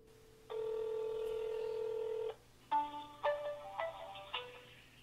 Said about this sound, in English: Now I'm going to make a phone call here